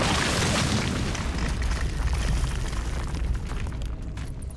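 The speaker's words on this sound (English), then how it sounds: "Maybe his dad is just throwing grenades or something." A grenade-like explosion in Cabela's Dangerous Hunts starts as a loud booming blast and then fades into a long, rumbling, crackling roar of debris, heard close and with no voices over it.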